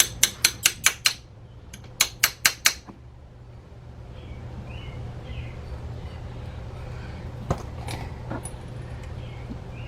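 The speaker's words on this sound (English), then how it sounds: "get my 3/8 socket, extension. I'm gonna use a ratchet on here." A ratchet with a 3/8 socket and extension turning on a Ford Fiesta engine, giving two quick runs of sharp metallic clicks, close and loud, followed by a steady low hum and faint clinks.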